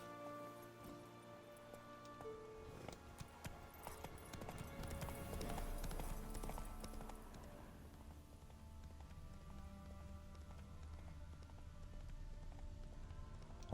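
Geralt's horse Roach gallops in The Witcher 3: Wild Hunt, its hooves beating a quick, steady clip-clop rhythm that swells midway, with faint patter and ambient game sound underneath.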